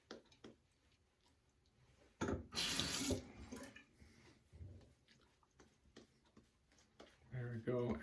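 Tap water gushes into a sink in a loud burst for about a second while shaving lather is wetted, with quieter handling noises and a shorter second run of water near the end.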